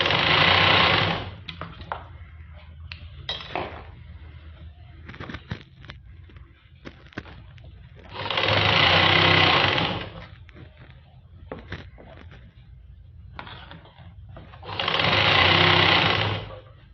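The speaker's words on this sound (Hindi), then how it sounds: "अब मैं दूसरी मोहरी सिलूंगी।" Electric sewing machine stitching the hem of a palazzo trouser leg, three steady whirring runs of about two seconds each separated by quieter pauses with light handling clicks and rustle.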